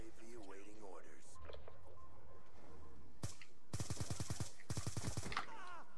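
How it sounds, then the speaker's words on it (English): Shotgun blasts in the video game Call of Duty Black Ops 2, a sharp single shot followed by two rapid bursts of loud repeated reports, with game background noise and voice effects before them. "Yeah, that is a shotgun."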